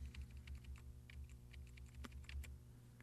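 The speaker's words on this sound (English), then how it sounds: "I'm going to press the right key on my keyboard to move the robot over a little bit more." Computer keyboard keys tapped in quick succession while nudging an object in an editing program, producing a series of close, crisp clicks over a low steady hum.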